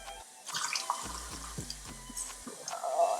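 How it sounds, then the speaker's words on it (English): Rice being rinsed under running tap water, a sustained splashing flow with irregular sloshes and a few low thumps as the grains are swirled, close by and with no one speaking. "start rinsing your rice"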